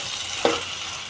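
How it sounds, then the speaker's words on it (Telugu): Tomato and onions frying in a pan for a curry, a steady broadband sizzle throughout with one brief stir or clatter near the middle, close and moderately loud. "నేనైతే ఇప్పుడు కొంచెం టమాటా కూడా వేస్తున్నాను"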